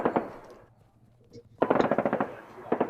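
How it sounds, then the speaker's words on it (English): Bursts of machine gun fire crackle in a World War One battlefield scene, a short rattling volley first, then a longer rapid string after a pause and another burst at the end, fairly quiet and distant-sounding. "Sniper! Actually, no. That looks like a machine gun."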